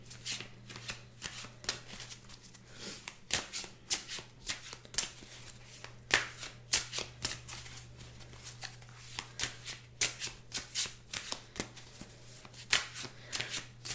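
Crow tarot cards are shuffled by hand in a steady run of soft riffling bursts, close and quiet, with a low hum underneath and no talking.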